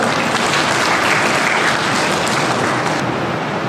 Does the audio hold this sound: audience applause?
yes